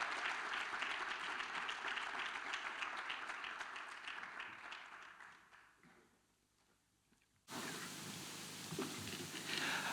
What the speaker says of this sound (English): Please give Owen a round of applause for a quick word.